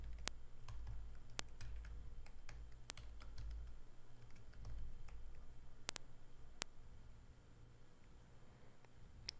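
Fingers type on a computer keyboard, making scattered, uneven key clicks with short pauses, close up over a steady low hum of the room.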